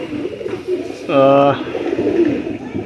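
A Faqeer Gul pigeon gives a short, throaty coo up close, heard between stretches of someone talking.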